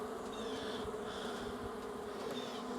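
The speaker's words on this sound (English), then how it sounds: "The bees are now in here" Dense, steady buzzing of honeybees confined in a hive cage after a swarm, a continuous close drone at constant level with no talk over it.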